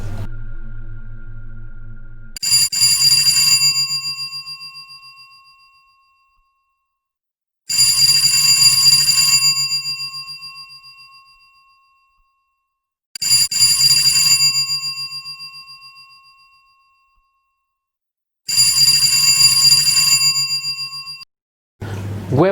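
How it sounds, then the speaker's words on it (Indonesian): A ringing alarm sounds in four long, loud bursts of bright electronic trilling, each a few seconds long and separated by pauses, alone without speech. "Dan gak lama gua pun terbangun oleh alarm yang berdering."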